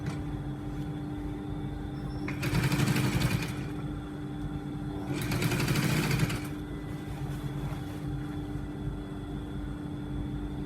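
A sewing machine stitches a button shirt in two distinct runs of about a second each. The whirring bursts sit over a steady background hum, with no talk.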